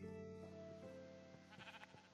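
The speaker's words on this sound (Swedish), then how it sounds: "Ett får?" Minecraft sheep bleating in a quivering, wavering tone, faint and brief, with soft game ambience underneath.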